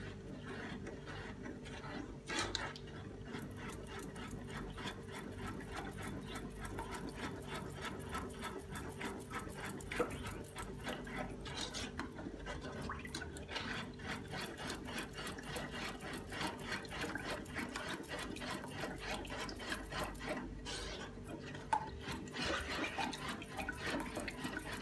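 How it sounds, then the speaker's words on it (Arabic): Milk and sugar are stirred together in a pot to dissolve the sugar for Eid ka'ak and barazek cookies, a faint, steady scraping swirl that continues quietly throughout with no talk. "والحليب، بحركن منيح ليدوب السكر."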